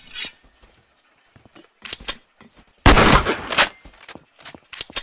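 Pop gun firing in a video game, with sharp gunshot bursts in irregular clusters, one dense loud volley in the middle, and scattered single pops before and after.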